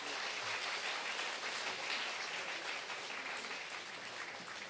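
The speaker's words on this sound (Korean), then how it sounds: "여러분 큰 박수로 격려해 주시고 축하해 주시면 감사하겠습니다" A church congregation at a Sunday service applauds elders receiving necklaces, producing sustained, even clapping from a large crowd at a moderate distance in a reverberant hall, with no one speaking.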